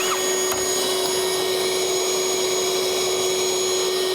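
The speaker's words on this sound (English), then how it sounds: "I think I'm gonna pull a lot of lint through that vacuum" Vacuum cleaner running steadily while sucking lint out of a dryer vent, a loud constant whine and roar with a strong sustained tone throughout.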